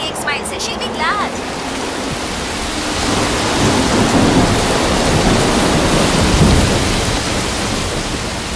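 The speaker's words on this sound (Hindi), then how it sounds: "बारिश मुझे बहुत पसंद है" Heavy rain pours down loudly and continuously while thunder rumbles low through the middle, with a brief burst of sound at the very start.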